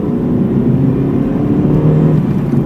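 A car engine hums loudly and steadily from inside the vehicle, building to about 4,500 rpm. Its low, continuous drone holds throughout with no speech.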